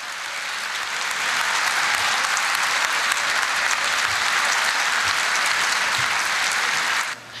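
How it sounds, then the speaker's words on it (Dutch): Sustained, dense applause from a large conference audience at the Kyoto climate talks, warm and steady for about seven seconds before cutting off abruptly, with no voices over it. "Zijn overredingskracht leverde Pronk een heel warm applaus op."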